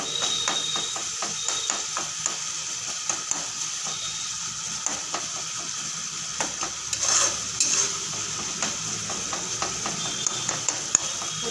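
Spice paste frying in oil in a pan for a Bengali bhangon fish curry, a steady close hiss of sizzling with repeated light stirring scrapes and ticks throughout, no talking.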